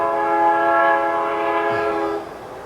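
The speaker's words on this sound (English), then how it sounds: "How was I supposed to know there was a train coming?" Train horn blaring loudly and steadily as a train passes close by, staged as a comedy skit sound effect, with the rumble of the rails under it and the horn fading toward the end.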